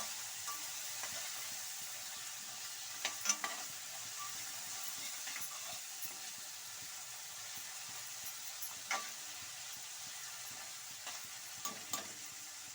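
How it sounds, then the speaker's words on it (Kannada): Vegetables for chitranna fry in a hot pan with a steady crackling sizzle and steam hiss, while a spoon stirs now and then with a few scraping clicks near the mic. "ನೋಡಿ ಈ ರೀತಿ ಎಲ್ಲ ತರಕಾರಿ ಎಲ್ಲ ಫ್ರೈ ಆಗಿದೆ."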